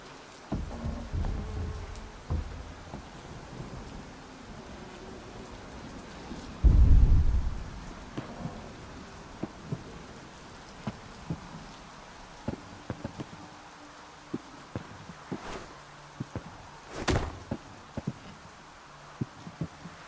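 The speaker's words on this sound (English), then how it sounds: "It's always raining down here." Steady rain pours throughout the Sancticide video game scene, with a loud, close thunder crack around the middle and a fainter rumble later, scattered drips and ticks over the wash.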